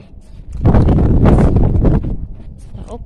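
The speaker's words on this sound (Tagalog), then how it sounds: "Mahangin dito." Gusty wind buffets the microphone in a loud broadband roar, swelling and fading across a few seconds with faint rustling underneath.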